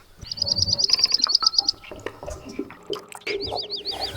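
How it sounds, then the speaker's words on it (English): A small grassland bird gives a quick run of bright, high chirps, falls silent, then repeats a shorter burst near the end, close by, with soft rustling and faint voices in between. "And is this the type of bird that hops around in grasses?"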